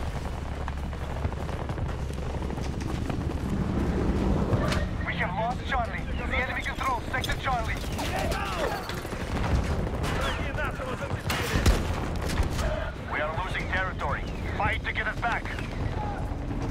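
Shotgun fire and battle chaos in the shooter game Battlefield 2042: loud, repeated gunshots and booming blasts over a dense, continuous combat roar, with someone talking over much of it.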